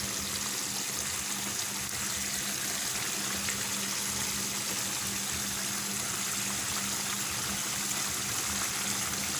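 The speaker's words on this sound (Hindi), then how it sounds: "अब इसमें तेल शामिल करना है थोड़ा सा मज़ीद" Cooking oil poured into a karahi while making Cholistani chicken karahi, Karachi street food style: a steady, unbroken liquid hiss running evenly for about nine seconds, with no voices.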